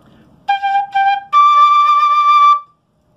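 A short melodic phrase played on zampoña panpipes, two short breathy notes followed by a longer held higher note, close and loud with silence around it.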